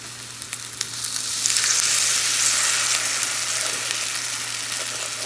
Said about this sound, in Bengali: এখানে রুটি তৈরি করছি আর এই লোহার প্যানটায় রুটি তৈরি করছি।